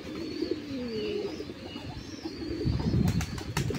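Pigeons and domesticated doves feed together, giving soft, low cooing calls close by, with rustling and a burst of wing flaps and scuffling growing louder near the end.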